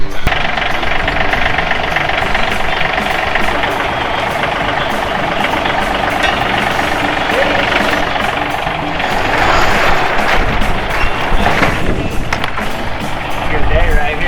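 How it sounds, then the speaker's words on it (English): A 408 crate engine idles loudly and steadily in a workshop, a rough, lumpy rumble that holds throughout with slight swells near the end. "Just listening to that idle on"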